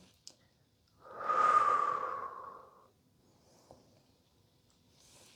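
A single slow, audible exhale during a yoga sequence, soft and close, swelling and then fading over about two seconds amid near silence, with a couple of faint clicks around it.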